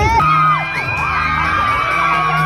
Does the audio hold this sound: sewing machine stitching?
no